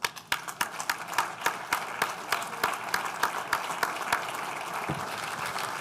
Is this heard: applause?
yes